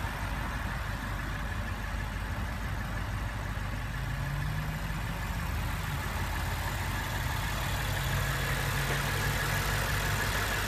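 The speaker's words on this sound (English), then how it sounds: "Very impressive engine." A Lexus GS F engine idles in a steady, even rumble that holds unchanged at close range throughout, with no talking.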